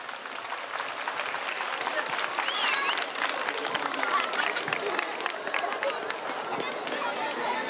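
An outdoor crowd at a wrestling festival in Erfelek, Sinop claps steadily and densely throughout, with voices chattering underneath.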